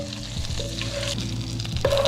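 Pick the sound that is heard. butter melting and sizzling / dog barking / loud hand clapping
butter melting and sizzling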